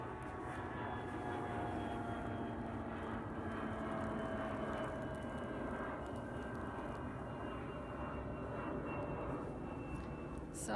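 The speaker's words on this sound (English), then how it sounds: "there is an airplane going by" A propeller or jet airplane passes overhead, a continuous loud droning rumble with a slowly shifting engine tone that holds steady over several seconds, no speech on top.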